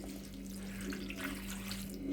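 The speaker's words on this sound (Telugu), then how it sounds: "బెల్లంకు ఇగో చూడండి ఇన్ని హాఫ్ గ్లాస్ వాటర్ పోస్తున్నాం" Half a glass of water is poured over half a kilo of jaggery for Sankranti sesame laddus: a steady, soft, continuous running-water sound without speech.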